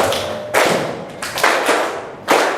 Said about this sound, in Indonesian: kita tepuk bersama-sama dulu